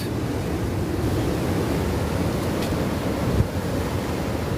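Surf and splashing water at the beach heard from under an umbrella, a steady loud broadband wash of waves with wind rumble and a brief thump near the end, no talk.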